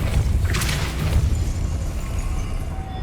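The Depulso spell in Hogwarts Legacy, a video game, lands as a sudden loud burst with a brief bright whoosh, then a rumbling boom that fades out.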